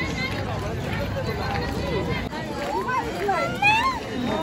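Dense crowd hubbub at the Mhasoba village fair in Murbad, a continuous babble of many voices with shouts and calls rising near the end, close and loud.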